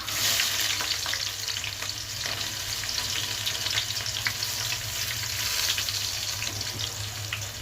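Sliced onions sizzle steadily in hot oil in a pan with cardamom and cinnamon for a prawn curry, a dense, loud, continuous frying hiss with small crackles and no voices.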